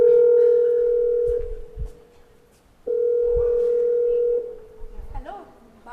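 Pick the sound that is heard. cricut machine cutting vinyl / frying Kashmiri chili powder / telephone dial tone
telephone dial tone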